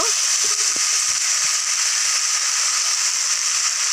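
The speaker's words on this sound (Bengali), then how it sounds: "এটাকে ভালো করে কষিয়ে নেব।" Banana flower from the home garden sautéing in a pan, giving a steady, even sizzle and hiss that runs unbroken from start to finish with no talking.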